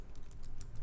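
Rapid typing on a computer keyboard picked up by a nearby microphone, a quick run of soft clicking keystrokes lasting under a second.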